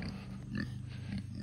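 Pigs on a farm give low, rumbling grunts and snorts in a steady murmur, with a few louder snuffling bursts, close by and without talk.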